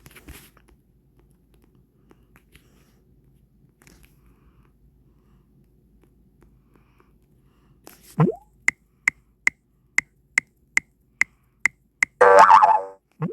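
A cartoonish clown sound effect from the Scratch Jr coding app: a short springy boing followed by a rapid series of evenly spaced sharp plops, ending in a louder squeaky honk-like burst, alone after near silence.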